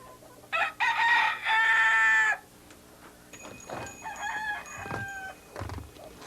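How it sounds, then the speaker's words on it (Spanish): Roosters crow loudly in two long, close calls back to back, followed by quieter, more distant crowing and clucking from other fowl. "Este canto de los gallos, por ejemplo, podemos utilizarlo en el montaje sonoro"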